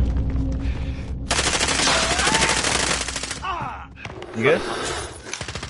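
Rapid automatic gunfire in a Warzone match near a store, bursts of close loud shots with sharp thuds, while players shout and talk over the fighting.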